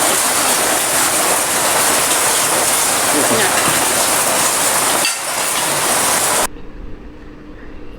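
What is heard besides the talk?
rain falling in a village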